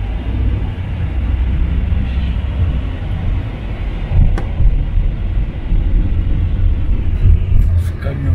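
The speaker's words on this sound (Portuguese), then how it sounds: "Esse caminhãozão." A big truck passing close on a road while driving to Miami, a loud, heavy low rumble that swells and stays constant throughout, with faint voices underneath.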